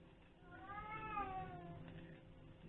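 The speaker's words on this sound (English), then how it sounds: "Did you hear my cat?" A domestic cat gives a single drawn-out meow at moderate distance, rising then falling, against a quiet indoor background.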